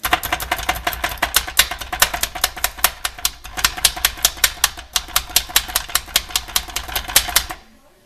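Hand food chopper dicing jalapeno, a fast steady run of sharp clacking strikes for several seconds, close and loud, stopping abruptly near the end.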